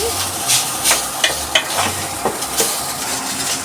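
Fried rice being stir-fried on an induction cooker, a spatula scraping and tossing through the pan in irregular strokes over a constant oily sizzle, close and fairly loud, with clinks of metal on the pan.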